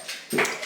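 A dog playing with its ball gives a short whimpering yip, close and brief, over a quiet indoor background.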